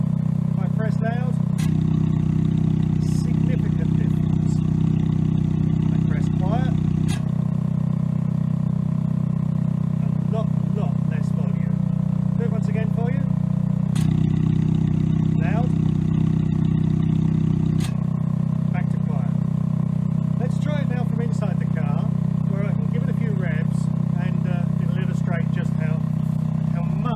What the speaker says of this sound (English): So it's ticking over at the moment, 100 revs-ish.